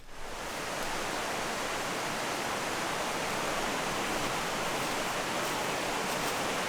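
A spring-fed river flows with a steady, full rushing hiss that holds constant throughout, close and loud with no voices over it.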